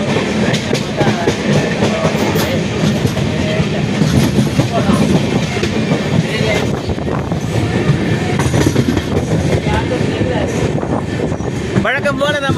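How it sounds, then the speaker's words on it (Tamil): The Amrit Bharat Express rolls into Villupuram station, a loud sustained rumble with rhythmic wheel clatter over rail joints and faint squealing near the end. "வழக்கம் போல நம்ம வண்டி 5வது பிளாட்ஃபாரத்துக்குள்ள நுழைய போகுது"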